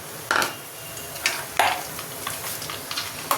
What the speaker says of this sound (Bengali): এই তেলের মধ্যে দিয়ে দেবো গোটা গরম মশলা, গোলমরিচ, এলাচ আর শুকনো লঙ্কা।